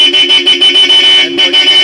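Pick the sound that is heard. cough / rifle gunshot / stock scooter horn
stock scooter horn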